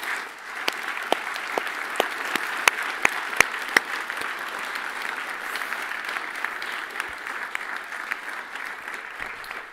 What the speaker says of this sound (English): That round of applause was to all of you